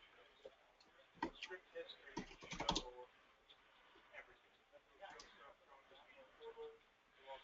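Quick bursts of keystrokes as a password is entered on a computer keyboard, clustered in short runs with pauses, faint and close, mixed with low background voices.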